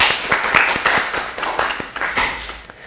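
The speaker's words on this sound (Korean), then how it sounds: "박수 한번 주시죠." Applause at a middle school student debate, a small group in the room clapping briskly with distinct individual hand claps, close and lively for a few seconds, no speech over it.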